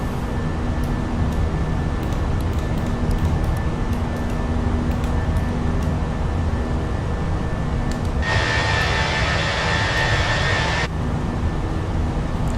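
Fenix A320 jet engines at climb thrust in Microsoft Flight Simulator, flying a heavy JetBlue airliner, give a steady broad roaring drone throughout, with a brighter hissing rush swelling in for a few seconds near the end.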